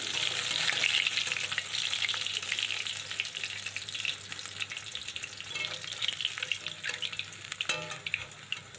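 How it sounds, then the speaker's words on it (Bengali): Pieces of large katla fish fry in hot oil, a loud continuous sizzle with clinks and scrapes as the fried pieces are stirred and lifted out, the crackle easing slightly toward the end. "আমার এদিকে সমস্ত মাছগুলো ভাজা হয়ে গেছে মাছগুলো নামিয়ে নিচ্ছি"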